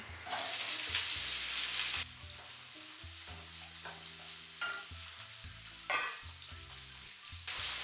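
Onion sizzles and crackles in a hot pan with garlic, fairly quiet, with the frying hiss dropping and surging as things are stirred.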